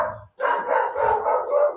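A dog barks indoors, close and loud, as someone arrives at the door, giving a quick run of sharp barks with one brief gap.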